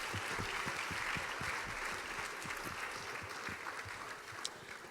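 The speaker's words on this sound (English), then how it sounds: "Another round of applause for Efe and Eka Ogbaibina." An audience at an awards event honouring icons gives sustained applause, dense steady clapping that fades slightly toward the end, with no talking over it.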